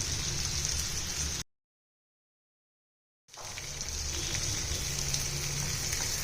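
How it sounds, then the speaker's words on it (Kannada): Paneer tikka fries on a tawa over a medium flame with a steady, close sizzle and crackle like light rain. The sound stops dead for about two seconds, then comes back just as strong. No voices are heard. "ಇದನ್ನ ಒಂದು 5 ನಿಮಿಷ ನಾವು ಮೀಡಿಯಮ್ ಫ್ಲೇಮಲ್ಲಿ ಸ್ವಲ್ಪ ಫ್ರೈ ಮಾಡಿದ್ರೆ ಸಾಕು."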